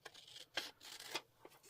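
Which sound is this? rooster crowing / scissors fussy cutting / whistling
scissors fussy cutting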